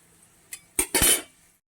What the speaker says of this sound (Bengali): আমি ঢাকনা খুলে দিয়েছি